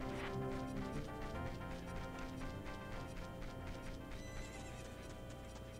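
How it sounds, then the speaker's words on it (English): Horse neighing and clip-clopping at the ranch in the Zelda 64 Spaceworld '97 demo, steady hoofbeats under game music, faint throughout. "Where's that Ganon horse?"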